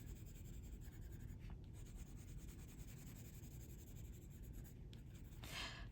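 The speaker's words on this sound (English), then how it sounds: "I'm just going to color it all in." Colored pencil scratches across paper in a steady, close, continuous rubbing while a Disney coloring-book portrait of Kuzco is filled in with yellow, with a brief louder scrape near the end and no talk.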